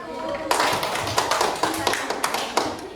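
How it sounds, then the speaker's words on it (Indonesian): A classroom of students claps for a student group: a burst of quick, overlapping hand claps starts abruptly after a brief pause and continues steadily and fairly close, with faint voices mixed in. "ya, tepuk tangan untuk kelompok 1."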